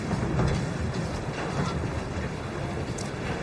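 A sleeper train runs on rails with a continuous loud rumble and roar, steady throughout with faint clicking mixed in.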